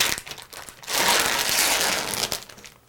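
Packaging of an IV giving set being peeled open, a close crinkling, crackling tear that swells to a sustained rustle and then tapers away.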